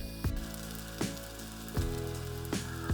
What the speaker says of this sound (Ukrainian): Смажимо ще 10 хвилин.